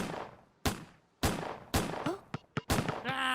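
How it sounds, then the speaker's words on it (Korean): Several sharp gunshots crack out in a Roblox shooting mission, five or six loud reports at irregular intervals with short echoing tails, ending in a brief electronic game sound. "첫 번째 미션, 사격 실력을 보여줘요"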